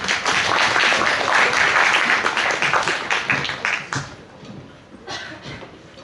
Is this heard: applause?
yes